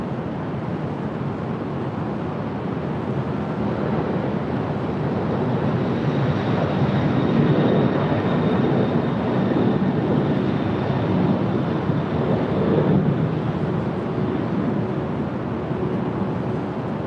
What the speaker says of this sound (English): As the Finnair A350 makes her way over